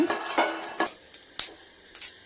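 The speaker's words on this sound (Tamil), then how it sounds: "ஒரு கப் வேர்க்கடலையை சுத்தம் பண்ணிவிட்டு ஒரு வானலியில் சேர்த்து ஸ்டவ்வை ஸ்லோ ஃப்ளேமில் வச்சுட்டு வறுத்து எடுத்துக்கலாங்க" A cup of peanuts dry-roasts over a slow flame in a wok-like pan while being stirred, giving scattered close scrapes and sharp metallic clinks in an irregular rhythm, with no one speaking.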